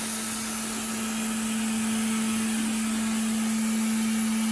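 Old Hoover vacuum cleaner running at a steady pitch, a continuous humming whine with an even motor drone, close and alone.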